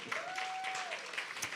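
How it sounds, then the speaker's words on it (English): Applause from a community outreach event audience, a steady wash of clapping that runs the whole way through at moderate level, with a faint tone held beneath it. "Can we clap it up one more time?"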